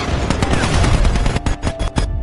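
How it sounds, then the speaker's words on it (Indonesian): Rapid bursts of gunfire crackle loudly and densely in a film scene of a surprise Taliban attack on troops, overlapping shots in a chaotic volley with a few sharper cracks near the end. "semua pasukan yang ada di wilayah itu terkena serangan tembakan kejutan"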